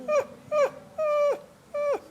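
A person imitates an anxious dog whining, producing four short, high, falling whimpers in a steady rhythm, close and clear with no other sound.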